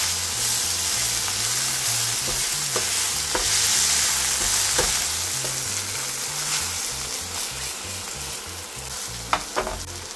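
Esfiha fries in olive oil in a frying pan with a constant close sizzle and hiss, broken by occasional light crackles and one or two soft knocks near the end.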